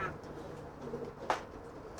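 Pigeons kept as racing birds coo softly in a low, murmuring series, with a few sharper rustles or clicks breaking through nearby.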